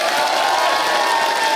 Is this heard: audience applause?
yes